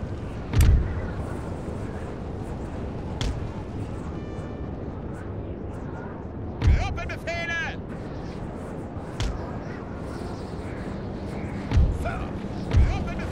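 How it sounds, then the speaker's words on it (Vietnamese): Cannon artillery in the Napoleon: Total War strategy game booms in a series of deep, distant thuds at irregular intervals over steady battle ambience, with someone commentating between shots. "Pháo của mình đang bắn thẳng à?"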